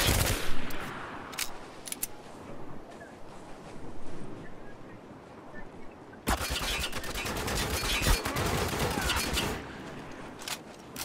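Chaotic gunfire and explosions from a Spec Ops The Line multiplayer match, scattered sharp shots early on, then a dense, loud stretch of overlapping fire through the second half.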